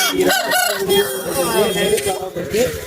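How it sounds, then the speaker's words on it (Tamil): A rooster crows loudly and close by, a strained rising call, with voices talking in the background of a busy livestock market. "அருமையான காக சேவல்"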